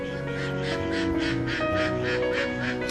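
Ducks quacking repeatedly in a garden at Foxwood House, a rhythmic run of loud, harsh calls close by over a steady background.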